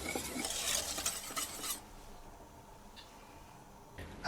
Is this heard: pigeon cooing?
no